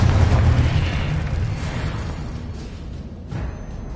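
Confringo spell explosion in the Hogwarts Legacy video game: a loud booming blast at the start that rumbles and fades over a few seconds, with a smaller burst near the end.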